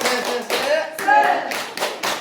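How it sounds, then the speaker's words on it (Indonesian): Teachers at a teacher-training session in Cianjur do a rhythmic spirit clap, several bursts of group clapping in a patterned beat with voices chanting along. "Tepuk semangat."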